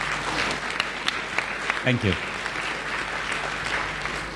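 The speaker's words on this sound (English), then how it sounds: "Perhaps we all deserve a clap." A crowd claps steadily for several seconds, a dense wash of applause with a brief spoken voice near the middle.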